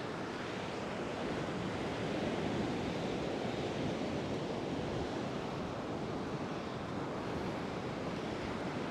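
Ocean surf rolls steadily onto Coney Island beach at sunset, a continuous broad wash of breaking waves with wind rumble against the microphone and no voices.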